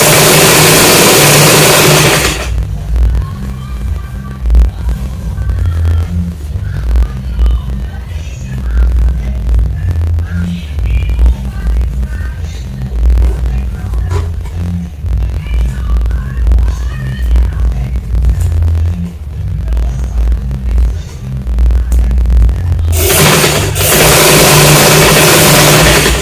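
A sewing machine stitching a two-pleat kaftan, running in a loud continuous whirring motor drone with a rapid needle chatter, louder at the start and end and slightly softer in the middle.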